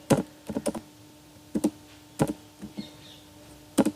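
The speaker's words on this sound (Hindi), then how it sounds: "तो यहाँ पे मैं इसको टाइप करूंगी" Keys clatter on a computer keyboard in short bursts of crisp, close taps separated by brief pauses, with no voices.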